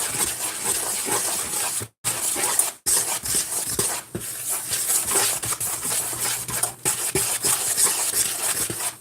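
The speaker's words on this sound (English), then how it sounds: "So we're going to take the bottom of this, stir it all around" Cake batter for a layered giant cookie chocolate cake being stirred in a bowl, giving a continuous scraping, rubbing churn close by with a couple of short pauses and no talking.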